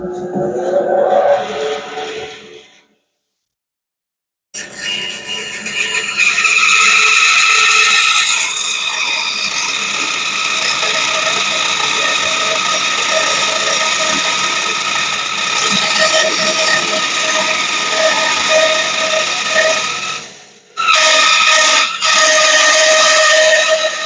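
A new Bauer 14-inch bandsaw rips through 6-inch-tall stock, a loud, steady, close whine and rasp that stops briefly, starts again, dips once near the end and then resumes.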